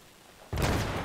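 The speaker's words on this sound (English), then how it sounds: "That was a grenade." A grenade going off in Battlefield 3: after a quiet moment, a sudden loud, close blast bursts in and holds as a heavy roar to the end.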